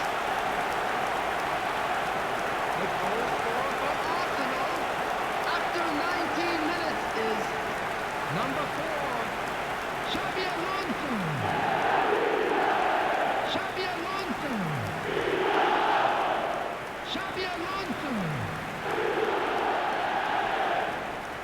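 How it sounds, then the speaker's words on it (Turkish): A stadium crowd in the eFootball video game roars and chants in swelling waves after an Arsenal goal, with a commentator's voice talking over it. "Stadın dört bir yanından destek tezahüratlarını duyabiliyoruz"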